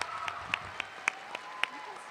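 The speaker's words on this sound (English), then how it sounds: "like Frankie, I want to give another round of applause to our presenters that did it" Applause for presenters at a high school graduation ceremony: a crowd claps faintly and somewhat distantly, with a few sharper individual claps standing out over the soft, continuous patter.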